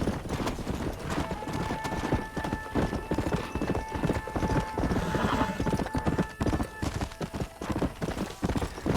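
Horse hooves in Red Dead Redemption, a steady rapid clip-clop of a galloping horse, loud and close throughout with a faint tonal game sound underneath.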